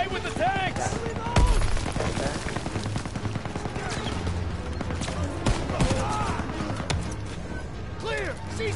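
Gunfire from a Call of Duty WWII battle against an MG-42 machine-gun nest: dense, loud bursts and sharp single shots rattle continuously, with shouted voices over the din.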